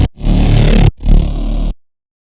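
Heavy synth bass patch played dry before any effects, two sustained loud gritty notes separated by a short gap, then an abrupt cut to silence.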